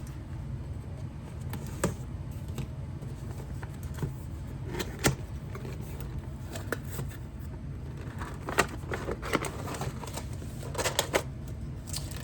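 Cardboard and plastic packaging of a KFC Toys P14 Raijin (PowerMaster Optimus Prime) figure box being opened, with scattered close crinkles, taps and rustles over a quiet background, no voices.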